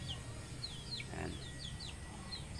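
Pet chickens cluck and chirp around a farm hut at suppertime, with short bright calls scattered across a steady low outdoor rumble. A voice speaks briefly in the middle.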